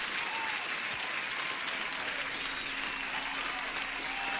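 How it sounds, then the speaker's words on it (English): Steady applause from a day-trading session fills the clip at an even, continuous level, a dense wash of clapping with a faint sustained tone running beneath it in the second half. "Let me give you an applause."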